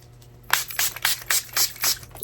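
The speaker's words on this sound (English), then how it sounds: "I'm gonna use the La Mercerie Hydro Glow Dewy Finish. I've been using this ever since my last setting spray ran out" La Mercerie Hydro Glow Dewy Finish setting spray is misted onto a face in about seven quick, evenly spaced close-up pumps of hissing spray.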